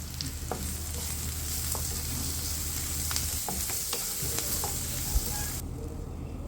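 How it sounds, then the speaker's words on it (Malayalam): Beef roast masala with crushed fennel and pepper is stirred in a pan, a continuous soft sizzle with scattered scraping clicks of the spoon, fairly quiet and without talk. "കുറച്ച് പെപ്പർ പൗഡർ ക്രഷ് ചെയ്തിടുന്നുണ്ട് എന്നിട്ട് നന്നായിട്ട് ഇളക്കുക"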